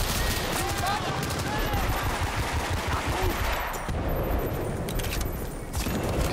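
Rapid bursts of gunfire and explosions from Bad Company 2 Vietnam gameplay, dense and continuous with someone speaking over the action.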